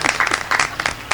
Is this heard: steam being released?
no